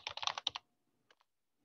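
Keys on a computer keyboard clatter in a quick burst lasting about half a second, then two faint single taps follow in near silence.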